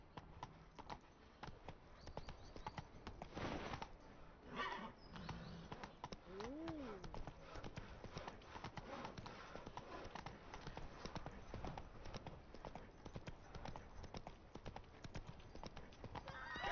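Steady clip-clop of Roach, the horse in The Witcher 3, hooves drumming rhythmically in a fast gait, with a brief whinny midway and faint game ambience behind.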